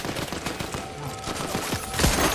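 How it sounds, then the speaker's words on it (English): Rapid video-game gunfire from several weapons in a battle-royale match, dense bursts of shots crackling close and loud throughout, with a heavier blast near the end. "Are they shooting? And they shoot the thing down."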